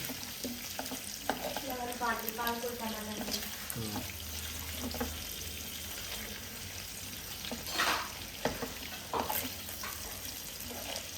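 Korramenu fish frying in a pan, a steady hiss and sizzle of hot oil throughout, with occasional stirring clatter and a brief murmur of a voice early on.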